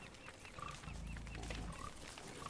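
Low, rumbling pig grunts from the video game Don't Starve, a drawn-out snorting burst in the middle with softer grunting around it and light game sounds above.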